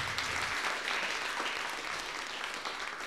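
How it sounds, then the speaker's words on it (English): Steady, moderately faint applause from a public seminar audience thanking its speakers carries on evenly, with no talking over it. "let's give another big round of applause for our speakers"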